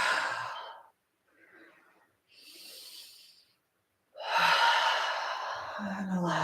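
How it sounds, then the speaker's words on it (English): Guided relaxation breathing: a slow clearing breath drawn in through the nose, then a long, soft exhale through the mouth, close and breathy, with quieter breaths in between. "take here a clearing breath, inhaling through the nose and exhaling through the mouth"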